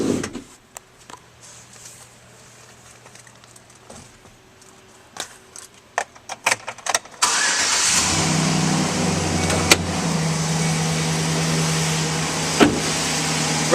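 A 2012 Chevrolet Silverado 1500 regular-cab long-bed work truck: scattered clicks and thumps from inside the cab, then the engine cranks and catches, settling into a loud, steady idle close by.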